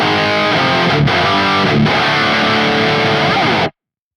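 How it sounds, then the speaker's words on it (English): Archetype Gojira X guitar amp with the master dial fully up and the output lowered, producing a thick, saturated distorted guitar; sustained loud riffing with two brief cut-offs, heard alone. "If I then push the master all the way up and then just compensate by bringing the output down a bit,"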